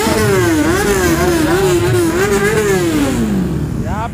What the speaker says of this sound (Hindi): यहाँ पे रेव चालू हो चुका है गाइस